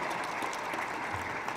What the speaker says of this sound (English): give Phil Washington a round of applause for accepting the baton